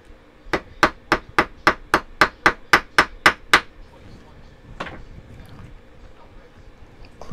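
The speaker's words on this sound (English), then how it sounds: "hammer this down" Eleven rapid, evenly spaced hammer strikes ring out sharply on metal stud earring pieces, close and loud, followed by a quieter clank and faint background noise.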